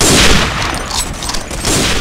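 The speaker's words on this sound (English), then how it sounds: "Johnny, you just hope when you shoot that gun, huh?" Rapid bursts of gunfire ring out in the Day of Defeat video game, loud overlapping shots forming a dense, continuous fusillade.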